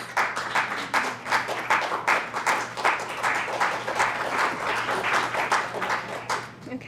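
Steady, dense applause from an audience at a scholarship reception, continuous clapping sustained throughout as a speaker is welcomed to the podium, fairly close and loud with no talk over it.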